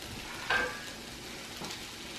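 Beans seasoned with salsa sizzle quietly in a pan, a soft steady frying hiss with a brief louder crackle of stirring.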